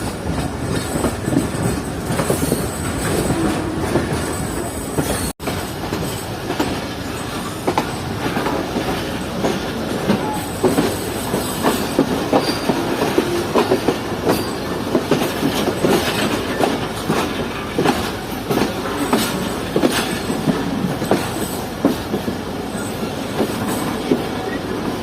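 A train pulls out of Bulari railway station, moving from the loop line onto the main line. Loud, steady rumble with rhythmic wheel clatter and occasional wheel squeal throughout.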